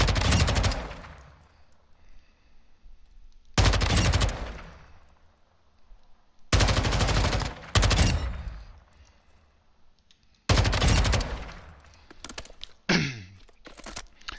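Bursts of submachine gun fire in Warzone 2.0 come in four long, loud automatic strings separated by quiet gaps. A few short clipped bursts close out the sequence. No talking is heard.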